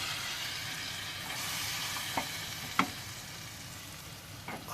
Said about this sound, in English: we're going to go with the garlic, chili, ginger. Straight into the pan.